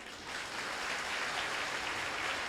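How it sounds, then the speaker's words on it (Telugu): Brief applause at a live Christian prayer and anointing service, a steady wash of many hands clapping heard from a distance at low volume. "అలాగే నా చప్పట్లు"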